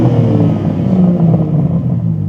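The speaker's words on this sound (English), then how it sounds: "That will be a titanium exhaust system." BMW M4 CSL engine revving loudly through a titanium exhaust, a deep sustained growl close by that holds steady for a couple of seconds with no talking.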